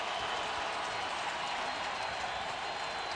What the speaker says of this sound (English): Well, this crowd awakened by the activity.